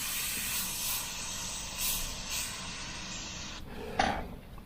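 Airbrush spraying paint onto a Minion figure: a continuous soft, airy hiss with slight surges in strength, ending in a brief louder burst, close and steady with no talk.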